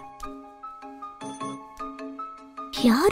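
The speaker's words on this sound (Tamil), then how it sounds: "ஃபோன் தான்." A phone ringtone chimes in a repeating melodic pattern of bright tones, close and clear, ending as a voice starts to speak over it.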